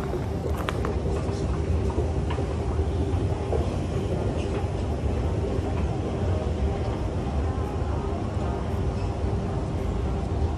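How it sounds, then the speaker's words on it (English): A new metro train rumbles past a station in The Gardens neighborhood of Dubai, a steady loud rolling roar with faint rail clatter that fills the whole stretch, heard outdoors with no talking. "This is the new metro station."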